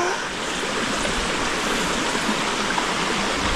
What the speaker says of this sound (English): The other thing you can do to check your filter is blow into here, into water. So I blow it into my bag.